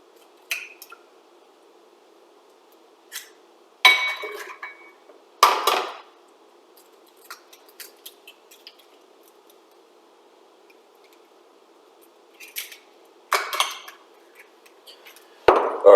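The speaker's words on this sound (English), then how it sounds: "always crack them inside the pan directly" Three whole eggs are cracked straight into a pan for a bodybuilding meal of eggs and spinach. Sharp taps and crunchy shell breaks come in scattered clusters, with brief drips and quiet stretches in between.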